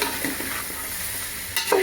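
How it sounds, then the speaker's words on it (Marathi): Chopped mixed vegetables being stirred and sautéed in a hot pan for vegetable rice: a steady close sizzle with soft scraping stirs, and a sharper clatter of the spoon near the end. "आता चांगल्या पद्धतीने याला परतवूया।"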